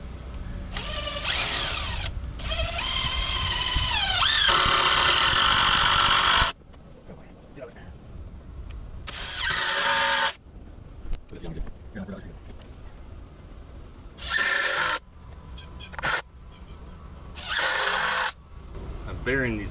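A power drill drives screws into lumber while a broken garden gate is being rebuilt, in several long whirring bursts, some lasting a few seconds, separated by pauses where someone talks.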